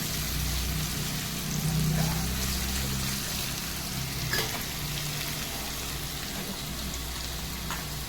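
Vegetables frying lightly in a pan while making pasta: a steady, even sizzle with soft stirring scrapes, no talking.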